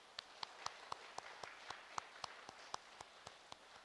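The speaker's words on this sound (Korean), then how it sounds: "우리 격려의 박수로 환영하도록 하겠습니다" A church congregation claps in welcome with slow, evenly spaced claps that ring out in a roomy space, moderately faint.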